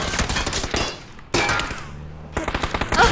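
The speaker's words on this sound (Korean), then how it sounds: "이거 총소리부터 들어봐. 총소리부터 엄청 약해." Video game gunfire rattles in rapid automatic bursts, loud and dense, with a short pause before another volley and a few scattered shots at the end.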